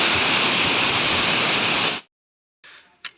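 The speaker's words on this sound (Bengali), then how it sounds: "এটাও কোনো না কোনো গ্লেসিয়ার থেকে জল হয়ে আসছে।" A glacier meltwater stream on the Hemkund Sahib trek rushes loudly and steadily up close, then cuts off abruptly after about two seconds, leaving near silence with a few brief faint sounds.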